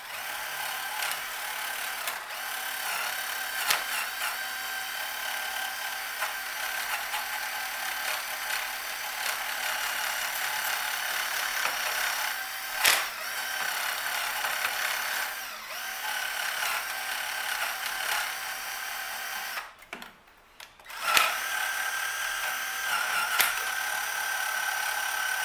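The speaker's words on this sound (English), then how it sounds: "we'll just smash this with the wire wheel and give it a bit of a clean" A wire wheel spins against an aluminum thermostat housing, giving a continuous bright, harsh whirring scrape that stays loud and close, with a brief dip and pause near the end before it resumes.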